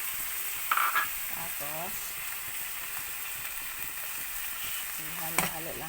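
Food sizzling in a frying pan with oyster sauce and black pepper, stirred and mixed in a Filipino home kitchen; a steady hiss of frying throughout, with someone speaking briefly at the start and near the end.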